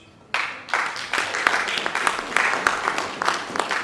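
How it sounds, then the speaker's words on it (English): An audience at a translation and interpreting capacity-building seminar roundtable applauds its moderator, a steady round of clapping that starts after a brief pause and carries on at an even, moderate level. "Let's applaud our moderator, Mr. Timothy."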